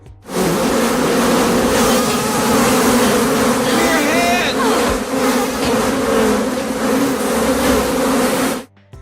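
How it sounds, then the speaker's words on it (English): A dense, loud buzzing of many bees swarms continuously, with a brief higher whine partway through. "which features Mulder and Scully running from thousands of swarming bees."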